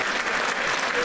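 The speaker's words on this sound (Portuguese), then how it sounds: "Passar palmas para eles." An audience at a concertina show gives a brief, dense burst of steady applause for the Amigos da Gaita concertina group from Ancião.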